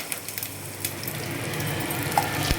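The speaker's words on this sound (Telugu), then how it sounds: "ఎండుమిర్చి వేగుతున్నాను" Dry red chilies sizzle as they fry in hot oil for tempering, a steady close crackle with a few sharper pops scattered through it and no voices.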